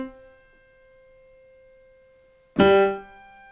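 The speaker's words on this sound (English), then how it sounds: "And you can hear these notes vibrating sympathetically in the background" Quiet, sustained piano tones from held-down notes' strings resonating sympathetically ring softly for a few seconds, then a loud struck chord bursts in near the end and decays.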